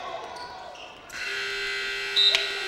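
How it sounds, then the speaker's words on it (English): A loud, sustained electronic buzzer sounds at halftime of a men's college basketball game between Muskegon and Ancilla, starting abruptly after a brief stretch of arena ambience and holding steady for over a second. "And that'll do it as the buzzer goes."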